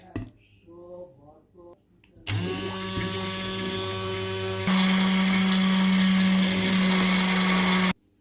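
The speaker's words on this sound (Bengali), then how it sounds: "এমসিটি অয়েল দিয়ে দিচ্ছি। এবার ব্লেন্ড।" A blender whirs loudly and steadily, then shifts to a higher, stronger pitch as it mixes bulletproof coffee with cocoa powder and MCT oil, preceded by a few seconds of soft clatter and talk.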